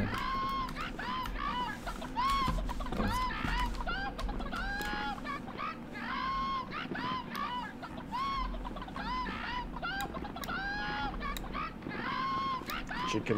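In the VR horror game Hand Simulator Horror, a chicken clucks repeatedly in steady bursts, clear and close, while players talk.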